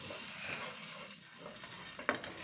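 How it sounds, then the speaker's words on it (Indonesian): Dry corn kernels for salted popcorn are stirred as they roast in a pan, giving a soft scraping and rustling with a light sizzle and one sharp clink near the end. "Aduk-aduk jagung agar panasnya merata."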